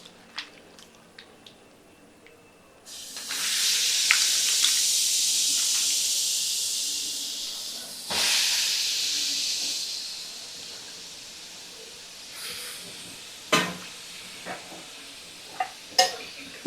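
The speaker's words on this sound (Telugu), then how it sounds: "ఆయిల్లోకి వంకాయలు వేసినామంటే ఎక్కువ చిట్పటా ఉంటాయి కదా" Brinjals drop into hot oil and a loud, continuous sizzle-hiss rises, surging again midway, then settling into spluttering with sharp pops and crackles as frying continues, no voices over it.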